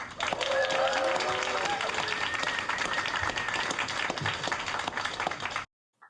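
An audience breaks into sustained applause and clapping to welcome a speaker onto the stage at an evening science talk on radio telescopes, loud and steady for about five seconds before stopping abruptly.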